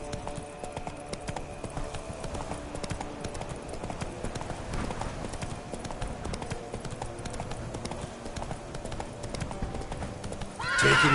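Roach, Geralt's horse in The Witcher 3 video game, gallops with a steady clip-clop of hooves over a constant game soundscape, and a sharp neigh breaks through near the end.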